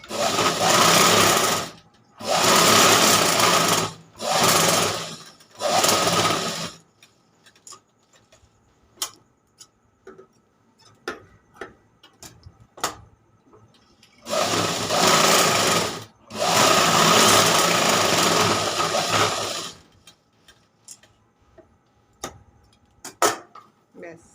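A sewing machine stitches fabric in loud close bursts of a few seconds each, a cluster early on and two more later, with quiet stretches of small clicks and handling noises between them.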